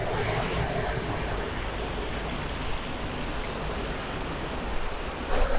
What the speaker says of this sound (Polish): Już mamy tutaj morze